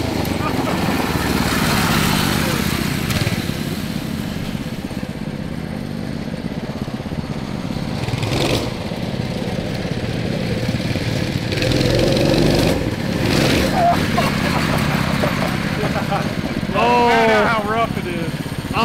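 Three small engines on a three-seat mini bike run loud and close in a rough, steady outdoor drone that swells and dips slightly, with voices rising over it near the end.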